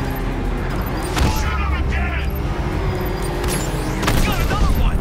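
Gunfire from the Batmobile during a car chase in the video game Batman Arkham Knight, with sharp bursts near 1.2 and 4 seconds over a steady engine and game noise, while voices talk throughout.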